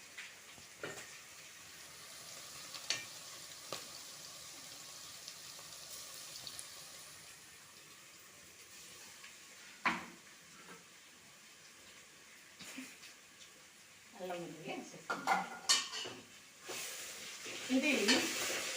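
Ginger garlic paste fries with browned rice in a pan for egg biryani, a quiet sizzle with sparse spoon taps, growing into louder stirring and scraping toward the end.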